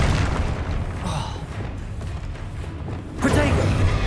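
Fire spells Confringo and Incendio bursting in the game Hogwarts Legacy, a dense rumbling blast of explosive impacts with a fresh louder eruption near the end, carried over a steady low roar and faint voices.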